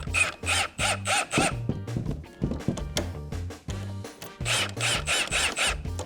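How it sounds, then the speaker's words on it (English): Bolts on a repair clamp over a leaking pipe are snugged down with a ratcheting tool, giving rhythmic bursts of rasping clicks that repeat close to the microphone, with no talking. "just make sure your bolts are turned to where they're locking it in, and then we're gonna snug this up."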